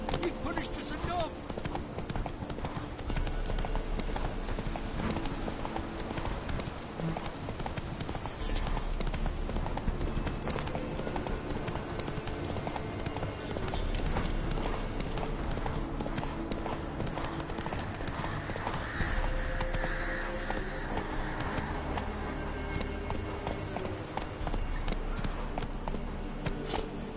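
Horse hooves clip-clop steadily and evenly through a video game scene, a continuous trotting rhythm layered under voices and game ambience.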